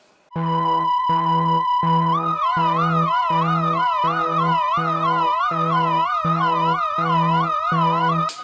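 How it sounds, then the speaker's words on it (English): A loud electronic countdown-timer alarm from an Arduino-built device wails continuously, starting with a steady pulsing tone and then switching to a rising-and-falling warble that repeats without pause. "When the countdown timer gets to the end of its countdown, it sounds something like this."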